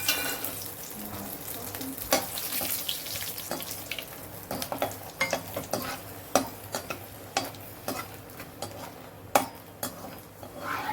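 Dry red chillies frying in oil in a pan, a steady sizzle broken by repeated clinks and scrapes of a metal spoon stirring, close and fairly loud.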